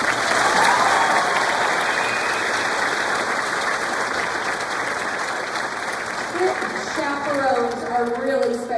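Audience applause at a high school spring concert, loud and sustained, with cheering and a few shouting voices rising toward the end.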